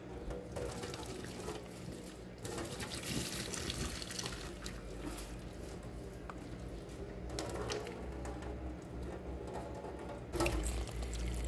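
Boiled water, from cooking carne de sol, pours out of a cooking pot into a kitchen sink, a continuous splashing rush that carries on steadily with no talk over it.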